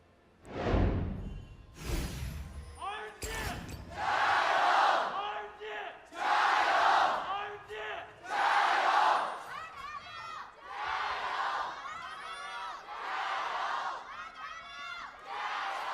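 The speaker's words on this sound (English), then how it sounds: "I want to hear the crowd go ballistic one more time" Arena crowd at an LPL Summer 2018 semifinal esports match in Beijing roars and shouts in loud swelling waves, with bursts of cheering rising and falling throughout.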